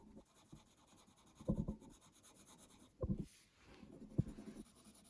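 Close, quiet scratching of a coloured pencil on the paper of a colouring book, with repeated bursts of strokes and brief pauses between them.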